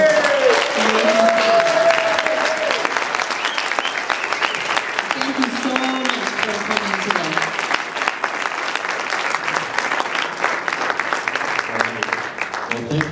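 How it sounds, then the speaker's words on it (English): Loud, sustained audience applause with dense clapping and some cheering fills the entire stretch, steady from start to finish. "let's give one more round of applause to our"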